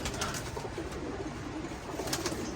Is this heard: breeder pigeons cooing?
yes